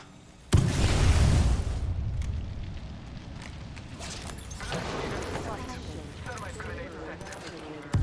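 A thermite grenade in Apex Legends bursts with a sudden loud whoosh and boom, then a burning, crackling hiss trails off under intermittent game noises and talking.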